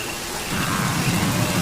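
Heavy rain pours down steadily in a wildlife setting, a dense continuous hiss of falling water that swells slightly louder midway, with a low rumble underneath and no voices.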